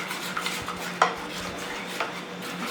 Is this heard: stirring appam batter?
yes